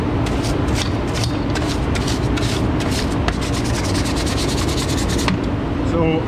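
A hand brush scrubs down equipment on a farm during conveyor belt work, producing rapid, rhythmic rasping strokes, close and loud, continuing steadily for several seconds.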